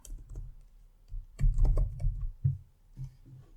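A name is typed on a computer keyboard while entering data in Power BI. Close, quiet key clicks come in short irregular bursts with brief pauses between them, and no voice is heard.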